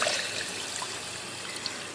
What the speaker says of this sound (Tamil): இதில் 3 பங்கு தண்ணி பார்த்திங்கன்னா ஊற்ற போகிறேன் நான்.